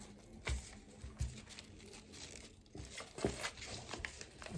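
Fabric being cut out for a turban cap with petals, crinkling and tearing in quiet irregular bursts of rustle and snips, close up with no talk.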